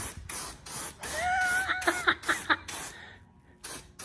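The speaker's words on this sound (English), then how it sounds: "watch how these damn things spray" A turbo spray paint can hisses in a series of short bursts close by while the owner paints parts for a cheap rat rod hot rod build, with sputtering, clogged-sounding pulses mid-sequence and brief gaps between sprays.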